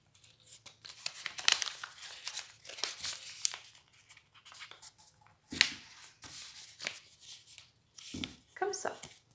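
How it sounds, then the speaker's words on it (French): Paper being folded and creased for an origami jumping frog, with soft crinkling and crisp sliding rustles in short bursts, sharper crackles near the middle and end, heard close under someone speaking French. "Les murs de notre ancienne maison, nous allons les plier à l'intérieur le long du pli central"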